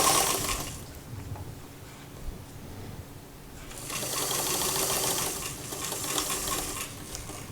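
A sewing machine stitches fabric while the feed dogs pull it along, whirring close and steady in two bursts, louder in the second half, with no talking.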